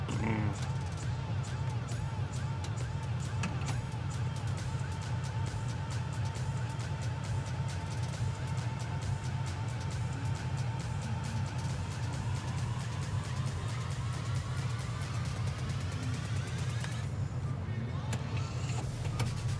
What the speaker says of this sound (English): Hear that bass rumble in those speed brakes.